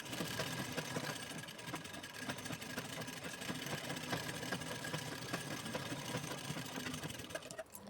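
A sewing machine runs in a steady, even whir while stitching a blouse lining along three sides, a continuous mechanical rattle heard close up without pauses or speech.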